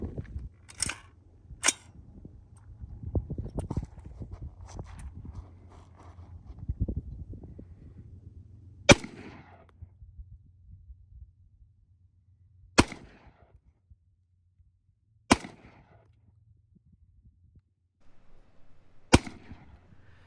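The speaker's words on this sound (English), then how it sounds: "This is the first time I'm shooting it, so let's go ahead and take a few shots." Gunshots from a 5.56-chambered AR-15 rifle at an outdoor range: six sharp, loud cracks, two close together early and then four spaced several seconds apart, over low background rumble and some handling noise.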